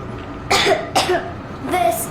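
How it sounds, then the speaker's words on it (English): A person gives three short, raspy coughs close up in the video game Metro Exodus, spaced apart, with no other talk. "I have this cough."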